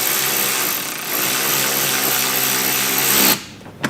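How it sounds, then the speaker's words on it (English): A power drill drives a screw into a mud flap mount on a 2022-2024 BMW X3 M, with a loud steady whine for over three seconds before it stops sharply, followed by a faint click. "Just going to tighten that in."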